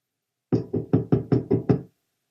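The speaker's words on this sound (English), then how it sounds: "Who would be knocking at this hour?" Seven firm, evenly spaced knocks on a front door, close and loud, with nothing else in the background.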